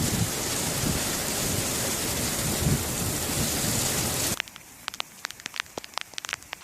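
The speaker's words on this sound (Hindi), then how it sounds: "इस सूखे मरुस्थल में बारिश की बूंदें गिरना शुरू हुई" Steady, loud rain pours down in a broadband wash for about four seconds, then cuts away to a quieter stretch of scattered drips and sharp drop impacts; no distinct thunder rumble stands out.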